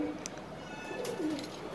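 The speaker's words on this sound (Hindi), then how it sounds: "देखो भाई, एक एक कबूतर देख लीजिए, सभी एक्टिव कबूतर हैं।" Soft, low cooing of Gola pigeons close by, a few brief calls over a steady background hum.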